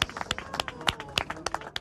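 Children step off a bus to a small crowd clapping, about a dozen sharp, uneven hand claps in quick succession, fairly close but modest in volume.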